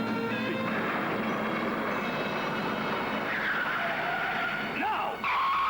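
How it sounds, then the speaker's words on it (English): A car braking hard with tires skidding, a loud sustained screech up close over engine roar, shifting pitch toward the end as the slide continues. "step on the brake with all your weight."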